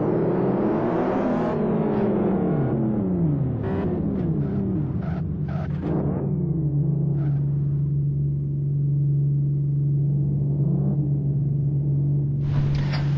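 A safety car pulls away on a race track with a loud engine that revs up and down through several gear changes. It then settles into a steady droning note while the car moves off, and no one speaks.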